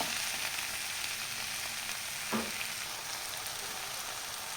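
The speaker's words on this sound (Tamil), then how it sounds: "தக்காளி புளியும் வதக்கலாம். தக்காளி நல்லா வதங்கி வரட்டும்." Tomatoes and tamarind sizzle softly in a pan for onion chutney, a steady faint frying hiss with a single light stir or clink partway through.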